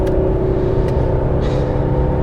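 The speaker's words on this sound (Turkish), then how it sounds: "Zaten motor sesi güzel." A Volvo S80 2.4 D5 diesel sedan cruises on the road, heard from inside the cabin as a loud, steady low engine drone with road rumble and no talking.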